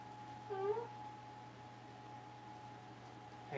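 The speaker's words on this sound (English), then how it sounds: "Cat's in the hallway." Domestic cat meowing in a hallway, one short near meow early on, heard over a steady electrical hum with a faint noise at the end.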